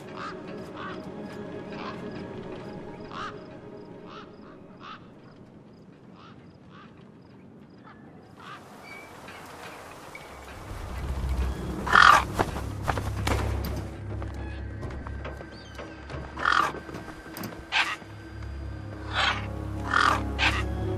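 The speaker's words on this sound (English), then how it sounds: "Then, I heard them. Gang birds, scavengers" Scavenger gang birds squawk and caw in a wasteland setting in the game Beyond a Steel Sky. Repeated harsh calls come and go over a low rumbling ambience, growing louder and denser in the second half.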